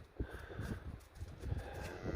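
A cow near her newborn calf gives low, repeated moos in a quiet outdoor farm setting, the calls coming in short, muffled bursts.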